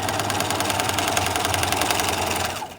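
A sewing machine runs continuously and steadily as it stitches through a paper cube model, a dense mechanical whir with rapid needle rhythm, close and loud, slowing at the very end.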